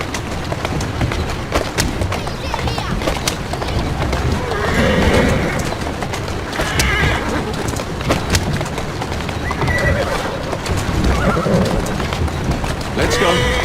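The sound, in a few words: horse neighing and galloping in Assassin's Creed Syndicate video game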